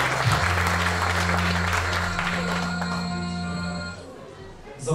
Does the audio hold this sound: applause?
yes